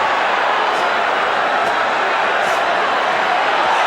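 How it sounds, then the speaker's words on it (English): A boxing arena crowd roars continuously during a heavyweight knockout fight involving Butterbean, a loud dense wall of cheering that holds steady throughout. "Crowd is roaring."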